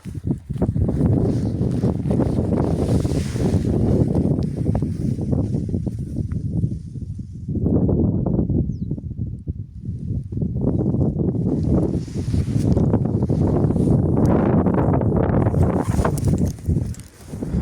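Gusty wind roars against the microphone in heavy, fluctuating bursts, with a brief lull midway before the buffeting returns strongly.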